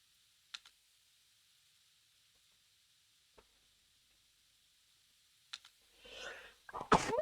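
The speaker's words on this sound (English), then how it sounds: "I really had to sneeze." A single sneeze bursts out loud and close near the end, after several seconds of quiet broken only by a few faint computer keyboard clicks.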